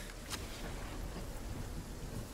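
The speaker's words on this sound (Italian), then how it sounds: "sono dentro la tempesta" Storm rain and thunder in the video game Fortnite, a dense steady downpour with a low rolling rumble and a brief crack near the start, no talk.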